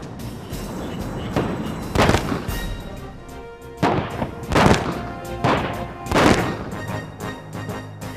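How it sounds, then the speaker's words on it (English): Simulated cruise missile impacts, each a blast equal to a 500-pound bomb, go off one after another in a series of heavy booms with rumbling decay at a distance. "The explosions were equivalent to the blast from a 500-pound bomb."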